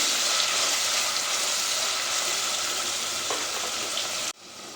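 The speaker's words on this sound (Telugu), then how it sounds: "ఇంకొక టమాటా చిన్న ముక్కలుగా కట్ చేసి వేసుకుని ఈ మొత్తాన్ని వేయించుదాం" Chopped tomato and amaranth greens sizzle steadily in a hot pan, a dense crackling hiss throughout that cuts off abruptly near the end.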